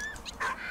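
Dog whimpering in the video game Valiant Hearts, a brief high-pitched whine heard close over steady game ambience.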